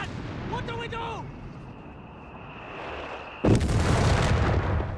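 Explosions and gunfire from the World War II strategy game Company of Heroes 3 come through as a sudden loud blast followed by sustained rumbling battle noise, after brief game voice chatter and a rising whine.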